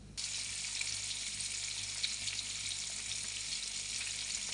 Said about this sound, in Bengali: এখন এক এক করে মাছগুলো দিয়ে ভেজে নেব।